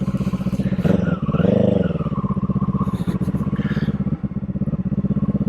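A Kawasaki Eliminator motorcycle, sharing its engine with the Ninja 500 and Z500, runs with a steady, throbbing exhaust thrum heard up close while riding, swelling briefly as the throttle opens before settling back to an even drone.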